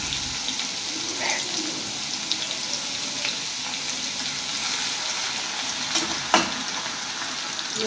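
Garlic sizzles in hot oil with cumin in a pan for a Maharashtrian patoli rassa, a continuous crackling fry with a few soft stirring knocks and one sharper clank near the end.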